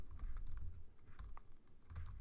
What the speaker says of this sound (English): sorry, my typing is not good.